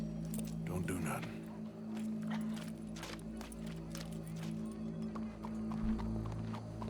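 Horse hooves clip-clopping in the Red Dead Redemption 2 video game, a quiet steady trot of soft repeated hoof hits under a low droning background.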